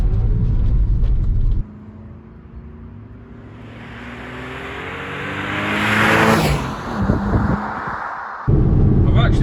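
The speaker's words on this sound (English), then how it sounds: "let's go find somewhere to have a good drive" A Porsche 996 Carrera 2 pulls away on a country lane, its engine note climbing steadily through the gears from a quiet idle to a loud, rising rev before an abrupt shift back to a louder road rumble.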